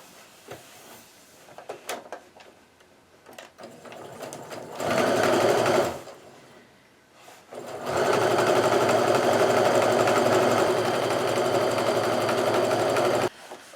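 A sewing machine stitches quilt fabric strips for a refraction quilt pattern, running in a short burst and then in a longer steady run of close, even whirring.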